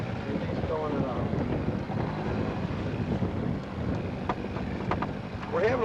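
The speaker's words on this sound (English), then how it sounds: "We're having a little bit of a problem today because of the wind factor" Wind buffeting a fishing boat on open water during a walleye outing, a constant rough rumble of gusts on the microphone with faint voices underneath.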